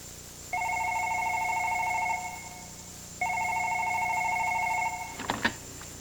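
A home telephone rings in two long electronic trills separated by a short pause, close and clear, then the handset clatters as it is picked up.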